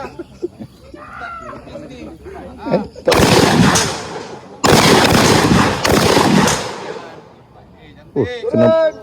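Two loud, close blasts from a short shotgun, a second or so apart, each with a rough ringing tail, and people talking before and after.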